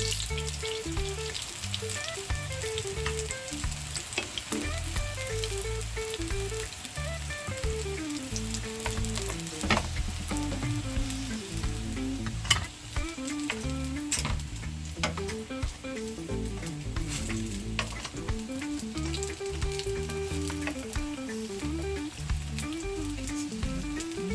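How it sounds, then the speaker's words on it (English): Slices of Jamaican breadfruit frying in hot oil in a pan, a steady close sizzle and crackle running continuously with faint stirring scrapes and no voices. "That's why I have breadfruit to fry today."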